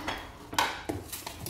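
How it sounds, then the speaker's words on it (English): Utensils clink and scrape against a bowl while a cucumber salad is tossed, a few close, distinct knocks and clatters with soft stirring between them. "So I'm going to mix everything up."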